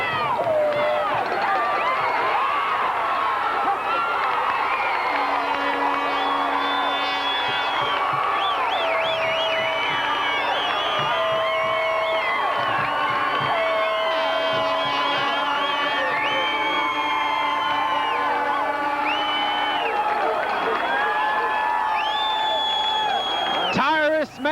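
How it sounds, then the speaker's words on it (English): A football stadium crowd on its feet at a 1992 high school game between Amite and Independence: a sustained roar of cheering and whoops across the clip, with an announcer talking over it. "Crowd on its feet."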